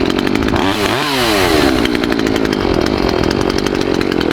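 Close and loud, a Makita EA5600F chainsaw is revved hard, then the throttle drops and the engine holds at a high, steady idle without stalling. The test happens outdoors on a winter Wisconsin homestead.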